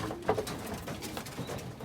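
A racing pigeon cock cooing in a breeding loft: one soft, low coo close by, with faint shuffling and rustling around it.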